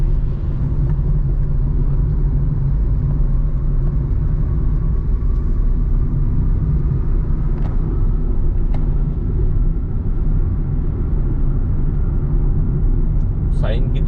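A car travels a long, sweeping bend on the ghat-like road between Murbad and Kalyan, with steady low engine and tyre rumble throughout and a voice talking over it.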